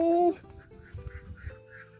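Ducks on a rural Thai duck-raising farm in cold weather give a few faint, spaced quacks, low in the mix after a brief louder call at the start.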